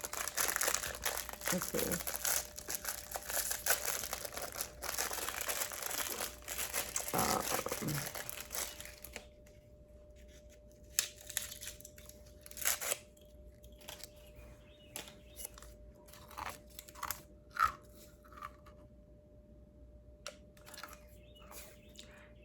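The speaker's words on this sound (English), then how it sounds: "Here's my fortune cookie, y'all, from the other day." A fortune cookie is unwrapped and cracked open close up, with crinkling wrapper rustle for several seconds, then quieter with scattered sharp cracks and crunches, plus brief speech.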